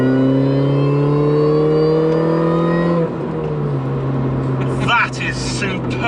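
A Mini's engine revs hard and close by, a loud, rising multi-toned howl that holds for about three seconds and then settles into a lower drone. A person speaks briefly near the end.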